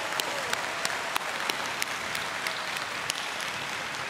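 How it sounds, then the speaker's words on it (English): An audience at a presidential inauguration in Taiwan claps steadily, a dense even applause with a few sharper individual claps standing out nearby. "Please give them a round of applause."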